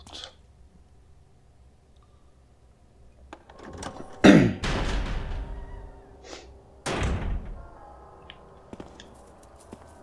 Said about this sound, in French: Vous avez déverrouillé la porte.